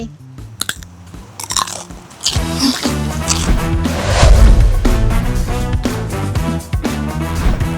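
Crunchy pop-up cucumber being bitten and chewed up close, opening with a few crisp snaps, then loud, wet crunching and chewing that continues steadily; no speech.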